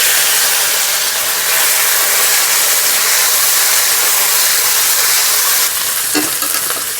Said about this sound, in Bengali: দেবো আদা রসুন বাটা।